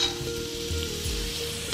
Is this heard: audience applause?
no